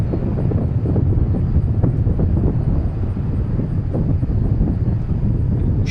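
Steady, loud roar of an airliner taking off at DFW International Airport, broadband engine rumble sustained throughout with wind buffeting the microphone and no pauses or talk.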